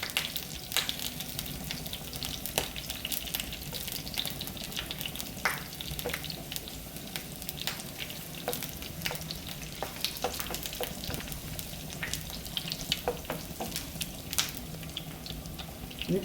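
Curry leaves and ginger fry in hot oil for fish cooked in soy sauce, giving a steady, soft sizzle with scattered crackles and pops and occasional stirring scrapes, with no talking.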